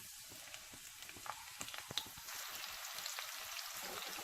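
Onions sizzle and fry in an open pot as the base for chana pulao, a faint steady crackle with scattered light pops close by.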